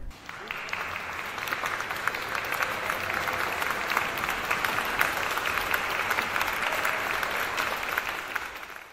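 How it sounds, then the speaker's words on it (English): Steady applause from a crowd, dense clapping that holds evenly loud throughout and fades slightly at the end, with no talking over it. "Maybe I'll even throw in an applause effect right here."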